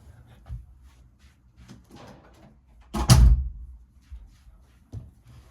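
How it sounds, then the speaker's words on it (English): A door shut once with a solid thud roughly midway, close by, amid light handling noises and a few soft knocks in a quiet room. "let me close the door."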